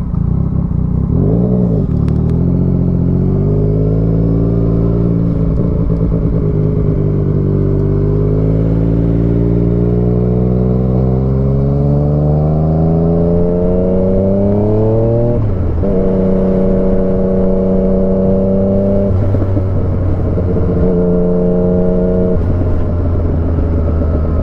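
A Yamaha MT-09 motorcycle engine roars while being ridden, rising in pitch through several long pulls with gear changes between them and crackling exhaust pops on the overrun, loud and close with steady wind noise.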